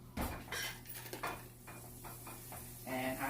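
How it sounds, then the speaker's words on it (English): Butter melts in a pan on the stove for homemade mac and cheese with a soft sizzle. Clinks and scrapes of a utensil against the pan break in repeatedly, and no one speaks. "Okay, so we're going to melt our butter."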